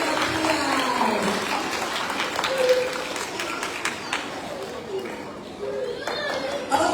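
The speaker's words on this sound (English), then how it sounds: "Let's give Matias another round of applause as he takes his seat." A school assembly crowd applauds a student returning to his seat, clapping and cheering that slowly thins out, with children chattering and voices talking throughout.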